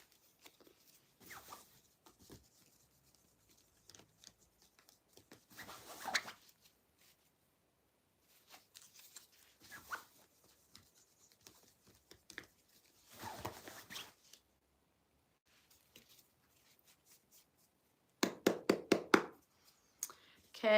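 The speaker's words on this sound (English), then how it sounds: "shuffling your cards" Tarot cards being shuffled by hand, giving soft, scattered riffles and light taps, quiet and close with pauses between bursts and one louder run near the end. No talk is heard.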